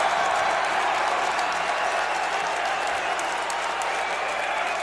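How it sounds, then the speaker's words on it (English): A packed high school basketball crowd at a Dematha vs PVI game roars and claps in a loud, continuous wall of noise, with sharp claps and shouts cutting through. "This crowd is getting loud."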